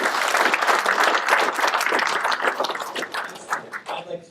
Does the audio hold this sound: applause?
yes